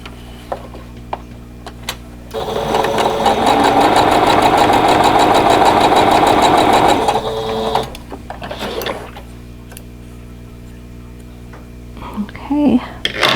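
Quilt block squares are sewn together on a sewing machine, which runs in one steady, loud, close burst of about five seconds. Quieter handling noises and brief talk follow.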